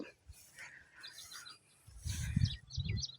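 Sparrows in a farm field give scattered, light chirps and tweets, faint and somewhat distant, with low rumbling noise rising near the end.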